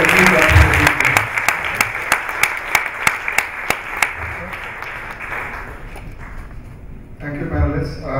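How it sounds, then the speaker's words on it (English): Conference audience applauding a panelist at a corporate social responsibility conference; after a burst of talk, distinct claps ring out in a regular rhythm, then thin and fade as voices return near the end. "I want you all to please give a big round of applause to Dr. Pathak, being one of the most modest"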